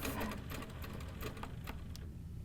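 A quilting sewing machine stitches fabric along a ruler, a quiet rapid needle chatter running steadily for a couple of seconds before a small knock at the end.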